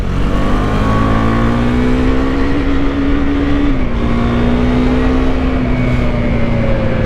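A Husqvarna Vitpilen 401 motorcycle accelerates hard and close, its engine note climbing steadily through the revs with a brief dip partway before pulling up again.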